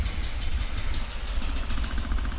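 A 2019 Ford F-150 with the 5.0 engine idles rough with a misfire, one cylinder dead, giving a steady, close, uneven low rumble with a faint knocking pulse throughout.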